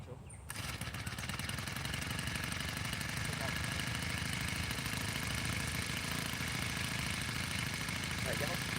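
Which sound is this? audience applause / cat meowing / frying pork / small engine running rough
small engine running rough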